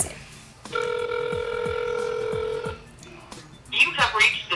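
A phone call being dialed gives a steady electronic tone that holds for about two seconds and then stops, with a brief burst of speech or audio from the handset right after.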